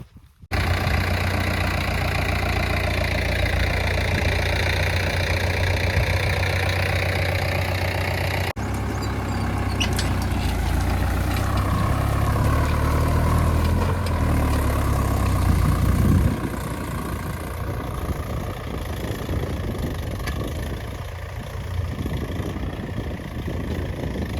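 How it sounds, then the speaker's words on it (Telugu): Mahindra Yuvo 475 tractor engine running steadily in a cotton field while pulling a weeding attachment, a loud continuous diesel drone with a slight shift in tone partway through. "మహేంద్ర వివా ఫోర్ సెవెంటీ ఫైవ్ బండి అయితే ఉంది"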